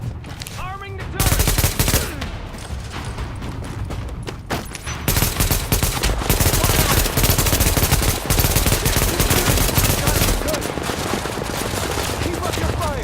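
Heavy firefight in The Division game: rapid automatic gunfire in long bursts, loud and continuous after a brief quieter opening, with sharp individual shots mixed in.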